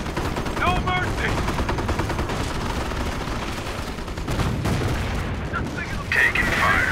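Rapid machine-gun bursts and rifle fire crackle through a World War II battle in the video game Company of Heroes, dense and continuous, with shouted voice lines from soldiers over the shooting.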